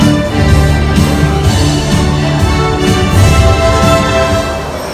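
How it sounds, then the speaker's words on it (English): A Disneyland monorail glides past with a steady, close electric hum and faint tonal whine that holds evenly for several seconds, then eases off slightly at the end. "Monorail."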